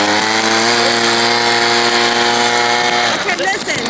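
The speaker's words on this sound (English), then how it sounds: "I think the snow's getting too hot, or too thick to push with the blower." A snow blower engine runs steadily with a loud, sustained harmonic drone while pushing thick snow in a severe winter storm, its tone shifting near the end as the load changes.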